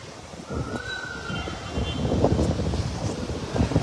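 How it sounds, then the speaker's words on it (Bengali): Strong wind roars and gusts in a steady, loud wash of noise during a rainstorm at Cox's Bazar on the coast, with rain and buffeting air rising toward the end. "এত বৃষ্টি এখানে, মানে বাতাসের সাথে বৃষ্টি তুফানের মতো আসতেছে আর কি"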